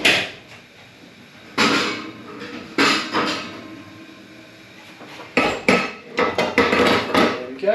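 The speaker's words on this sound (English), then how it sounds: "Now we're going to get the little patty tray out." A small metal patty tray is pulled out and handled while mini frittatas are prepared, giving several sharp clanks and knocks with quieter rattles and gaps between them, close by and with no talking.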